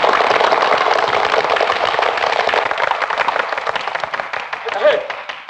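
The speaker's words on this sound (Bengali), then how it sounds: "এবার হাততালি।" Hands clap together in a loud, dense, steady burst of applause from a group of people at a farewell gathering, lasting several seconds without letting up.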